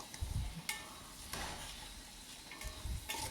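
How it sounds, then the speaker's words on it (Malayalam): Onions sautéing in hot oil for chicken biryani, a soft, faint sizzle with a few quiet stirring scrapes and clinks of a utensil against the pan, close and without talk. "ഉള്ളി നല്ലപോലെ ചൂടായ എണ്ണയിലേക്ക് ഇട്ടിട്ട് നല്ലപോലെ ഇത് വഴറ്റിയെടുക്കുക."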